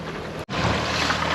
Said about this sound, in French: On avance donc doucement au moteur.